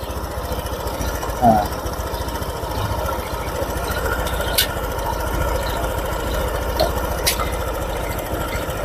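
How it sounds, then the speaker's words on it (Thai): A Honda PCX 150 scooter with a fault that makes it stumble and start hard idles steadily close by, a continuous low rumble with faint ticking, while someone talks over it. "นี่นะครับเครื่องยนต์ทำงานอยู่นะครับ"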